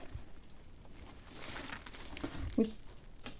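Plastic packaging of a big parcel of yarn rustles and crinkles as it is unpacked, a soft continuous rustle with one brief sharper crackle near the end.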